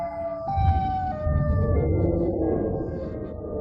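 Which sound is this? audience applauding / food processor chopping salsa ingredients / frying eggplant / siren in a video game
siren in a video game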